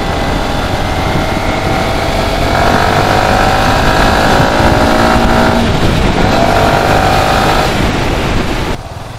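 A Yamaha R15 V3 sport motorcycle runs close and loud on a test ride, its engine droning and rising in pitch through the gears with steady roaring exhaust, then dropping abruptly near the end.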